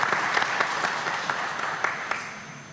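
Applause from an audience at a school board meeting, a dense, steady clatter of many hands that slowly fades over a few seconds, with no voices on top.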